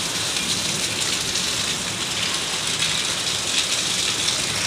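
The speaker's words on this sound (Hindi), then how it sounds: "और तूफ़ानी बारिश है, बिल्कुल भी हम बाहर जा ही नहीं पा रहे, क्योंकि इतनी बारिश है" Heavy stormy rain pours down steadily with gusting wind, a dense, loud, continuous roar of drops hitting surfaces throughout, with no voices over it.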